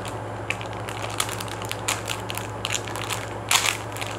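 Plastic blind bag packaging for a Series 3 Littlest Pet Shop toy being torn open with teeth: a steady, close crinkling and crackling rustle with small sharp snaps scattered throughout and a louder crunch near the end.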